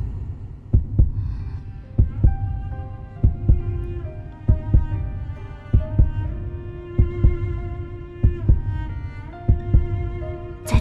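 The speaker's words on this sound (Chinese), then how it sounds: "你在黑暗中能听到心跳" A slow, steady heartbeat sound effect thumps at regular intervals in a suspense drama, each beat a deep, close thud, with a sustained tonal drone and musical notes building underneath.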